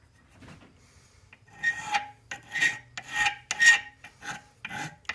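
Needle file rasping a burr off brass stock in a metal work lab, several short close strokes in a quick back-and-forth rhythm, faint and alone.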